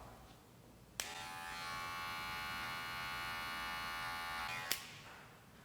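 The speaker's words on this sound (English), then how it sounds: "I will go back to my Wahl cordless magic clips and I'll open the lever all the way" Wahl cordless Magic Clip hair clippers with the lever fully open switch on with a click, buzz steadily for about four seconds at close range, then click off.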